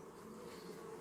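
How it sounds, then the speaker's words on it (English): Bees fly around an open beehive with a honey super, making a faint, continuous buzzing hum close by with no talking. "Lots of bees flying around there."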